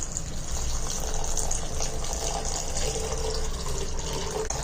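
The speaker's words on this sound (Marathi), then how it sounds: "पाणी टाकून थोडंसं धुवून भिजवून ठेवूया" Thin poha (flattened rice) is washed under running water in a kitchen, a steady gushing, splashing pour heard close and fairly loud throughout, with no talk.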